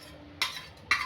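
Leftover night-before rice stirred into a pot of spiced kat amti curry, two short scraping bursts of a spoon against the pot with quiet pauses between them.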